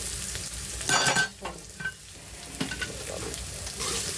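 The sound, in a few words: potatoes frying lightly in a pan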